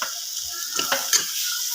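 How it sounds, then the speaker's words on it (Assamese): Boiled potatoes and peas being fried and stirred in ghee with dried and fresh chillies, a steady hiss broken by a few scraping stirs, close by and with no voices. "এতিয়া আলু আৰু মটৰ বইল কৰাখিনি দি দিম ভালকৈ লৰাই ল'ম"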